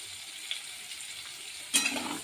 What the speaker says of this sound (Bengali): এখন আর 2 মিনিট মতো ভেজে নেব পটল আর আলুটাকে